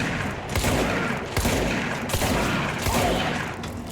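Gunfire in the video game Alan Wake, a rapid series of heavy shots and booming volleys spaced through the clip, loud and close, over a dense rumbling background.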